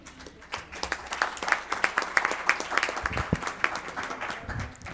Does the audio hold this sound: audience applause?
yes